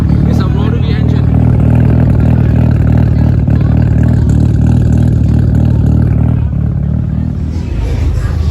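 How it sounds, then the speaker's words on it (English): A rotary-engined car revs loudly at a motor show, its dense engine roar steady throughout under crowd chatter and babble. "Guys, listen to this. It's a rotary engine."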